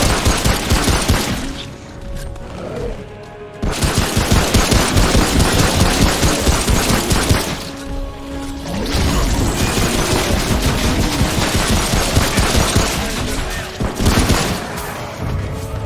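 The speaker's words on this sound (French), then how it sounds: "Pourquoi la mitrailleuse m'en veut à moi? Ah bah elle a tiré sur moi au premier." A machine gun firing in the video game Remnant: From the Ashes, loud sustained bursts of rapid gunfire broken by a few short lulls, with booming impacts mixed in.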